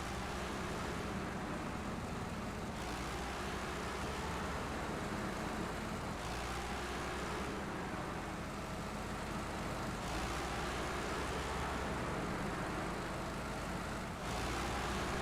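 A loud truck engine rumbles in the off-road driving game SnowRunner. The steady, heavy drone holds for about fifteen seconds with only slight swells in tone.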